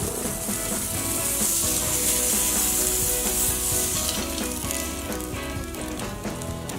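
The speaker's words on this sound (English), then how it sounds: "Sear the steak for 2 minutes aside" A tri-tip steak sears over direct heat on a grill with its heat deflector removed, giving a loud, continuous, even hiss of sizzling fat that holds steady throughout without any talking.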